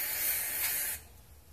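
Carburetor cleaner sprays onto the carburetor of a 1971 Sears ESKA 5hp outboard, a single close, loud hissing burst lasting about a second before cutting off.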